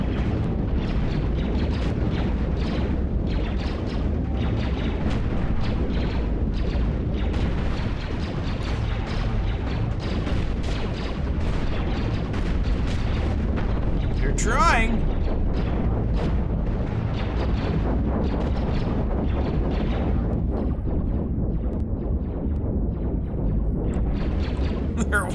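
Swarms of tiny missiles bursting against a ship in the space game Cosmoteer, a dense continuous rumble of rapid explosions that stays loud throughout, with a player talking over it.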